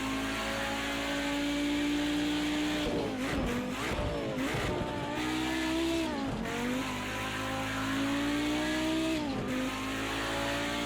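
Audi Group B Quattro racing around Bathurst in Project CARS 2, its engine droning loud and constant as it rises through the gears, dips on shifts and pulls hard again, with tires squealing through corners.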